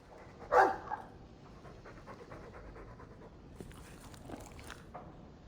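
A Mabari war dog from the Dragon Age II video game panting steadily in quick, soft breaths, close by, with one brief louder huff near the start.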